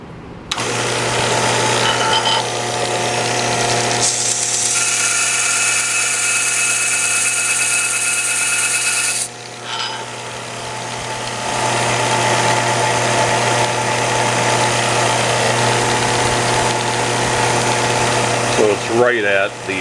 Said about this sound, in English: I'll use the belt sander to take it down till just before the wood touches the sanding belt